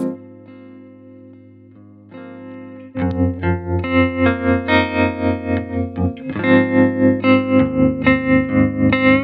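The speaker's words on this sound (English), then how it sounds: "Gorgeous analog tremolo sound." An electric guitar runs through an analog tremolo pedal, sustained chords pulsing in a steady, rapid wavering rhythm, loud and close with no voices.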